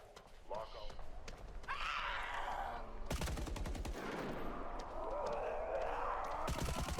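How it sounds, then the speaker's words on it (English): Gunfire from The Day Before video game rings out in loud, rapid bursts and sharp volleys that repeat across the stretch, layered over other game ambience. "Bro's gun is loud as shit."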